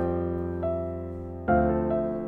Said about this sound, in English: this was all done from a piano blueprint that sounds like this